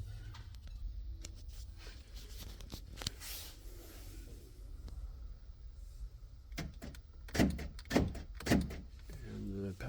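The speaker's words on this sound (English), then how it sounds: "Passenger door lock" A Ford Thunderbird passenger door lock actuator clunks several times in quick succession near the end, sharp mechanical thumps over a low steady hum inside the parked car with the engine off.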